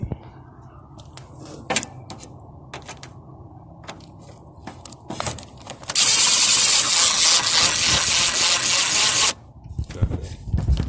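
Hand tool ratcheting while screws come off the AC radiator of a 2006 Mitsubishi Endeavor, with short ratchet clicks followed by a long, loud continuous ratcheting run mid-clip, close up, with a few light knocks around it.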